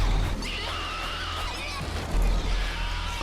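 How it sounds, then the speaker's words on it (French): Shrill, horse-like screaming wails of a corrupted creature in the Slender video game, rising and falling over a low rumbling background, no talking. "ce que vous entendez ce sont ces cris qu'on a entendus tout à l'heure"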